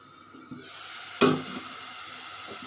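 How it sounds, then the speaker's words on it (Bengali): Spices sizzle in oil in a pot for a Bengali fish curry, a soft steady frying hiss with a sharp spoon clink and a burst of louder sizzling partway through, close by. "এখন তেল দিয়ে দিচ্ছি। সব মশলা মেখে রেখে দিয়েছিলাম, মশলাটি ভালো করে কষিয়ে নেব।"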